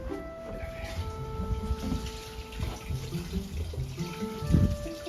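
Water runs from a kitchen tap into a pot during churro cooking, a steady continuous splashing flow lasting throughout with faint background clatter and no talk.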